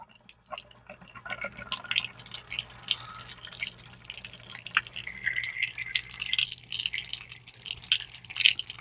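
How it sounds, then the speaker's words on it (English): Water filling a residential water heater tank after an anode replacement: a steady trickle and splash with dripping, moderately close and fairly quiet, with no talk. "you can see the water starting to come out. The tank is starting to fill."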